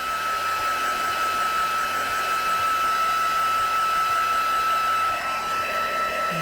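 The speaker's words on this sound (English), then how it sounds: "Now I do need to keep my heat gun moving because I don't want to over emboss those areas" Heat gun heat-setting embossing powder on a card, a loud, steady whooshing blower hum with a high whine, continuous and unbroken throughout.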